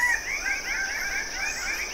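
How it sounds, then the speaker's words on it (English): Birds of paradise calling in an Indonesian rainforest: steady overlapping chirps and warbling calls under a constant high insect-like buzz, moderately loud throughout. "None more so than Indonesia's most flamboyant residents, the birds of paradise."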